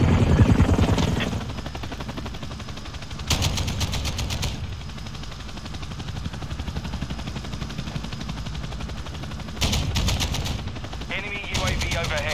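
A chopper gunner helicopter in Call of Duty Modern Warfare II fires loud, rapid bursts over a constant rotor drone, with several distinct bursts of gunfire across the clip.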